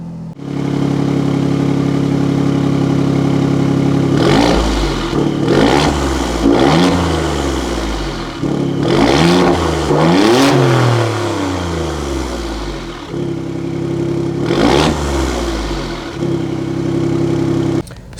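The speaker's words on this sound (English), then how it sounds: "we're gonna start this vehicle up, and I wanna show you guys how it sounds" A 2020 Alfa Romeo Stelvio Quadrifoglio facelift SUV engine idles loudly nearby, then is blipped through several sharp revs that rise and fall, with a rough steady idle between them and no voices.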